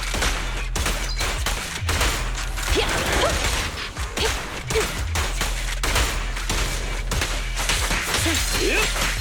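Rapid bursts of gunfire from the video game Zenless Zone Zero on PC, loud and repeated sharp cracks with whooshes and mechanical clatter over a steady low rumble, no talk.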